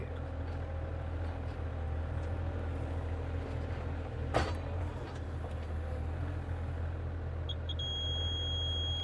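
Over a low, steady Bobcat excavator rumble, high electronic depth-check tones start beeping near the end, faint and evenly pitched.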